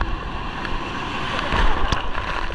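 Big ocean waves wash around a boat off Palawan, a steady roar with wind buffeting the microphone and a brief surge of splashing partway through.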